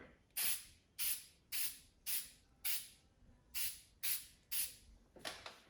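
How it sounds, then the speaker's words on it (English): Short hissing bursts from a Plasti Dip spray can coating Tesla emblems, about nine quick evenly spaced sprays, close and fairly quiet, with no talking. "Nice, quick little spray."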